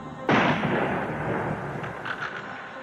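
A single loud rifle shot in Dealey Plaza cracks sharply and rolls into a long, broad echo that fades over about two seconds, standing alone without speech.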